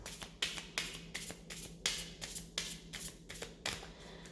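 Tarot cards are shuffled by hand in quick, even riffles, about ten soft slaps over a few seconds, close and quiet, with no one speaking.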